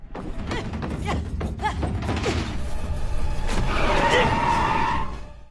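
A car slides to a sudden halt after its handbrake is yanked, a long tyre skid swelling over rumbling, thumping engine and road noise and ending abruptly.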